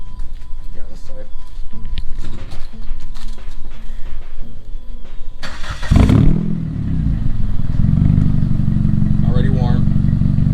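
PT Cruiser racecar engine being started: background noise and voices, then a sharp crank and catch partway through, followed by a loud, deep, rough idle running steadily to the end.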